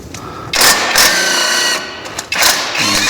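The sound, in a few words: impact wrench spinning a nut on a Ford Crown Victoria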